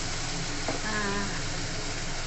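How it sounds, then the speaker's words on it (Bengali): Potatoes frying in hot oil until reddish, a constant dense crackling sizzle held at a steady level throughout, with a faint brief tonal sound in the middle and no clear speech. "আলুগুলো একটু লাল লাল করে ভেজে নেব"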